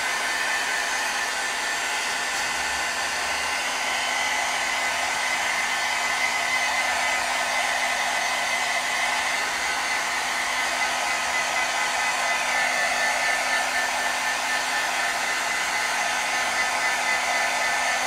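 A hair dryer blows steadily over a piece of handmade mail art, a loud, constant whooshing drone with a faint motor whine that runs unbroken throughout.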